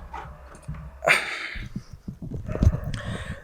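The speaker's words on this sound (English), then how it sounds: "There's just too many freaking dogs over here." Dogs bark outdoors in a residential neighborhood late in the day, several short barks and yelps scattered near and far with a louder burst midway and more toward the end.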